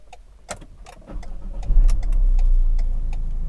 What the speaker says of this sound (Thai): เดี๋ยวอาจจะสตาร์ทรถให้ดูนะคะ